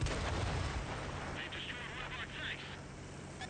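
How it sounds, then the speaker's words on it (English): A tank's ammo rack detonates in a tank video game, a heavy blast booming at the very start and rumbling away under a voice that talks through the rest. "And that was a detonation"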